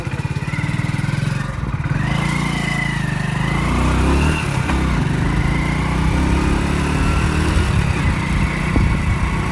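Motorcycle engine running steadily on a road ride, a loud, continuous drone with wind noise and slight shifts in pitch, close to the microphone, no talking.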